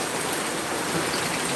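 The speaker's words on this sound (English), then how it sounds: "Look, this heavy rain here." Heavy rain falls hard outdoors during a typhoon, a loud, dense, continuous hiss of drops pounding surfaces with no break and no voices.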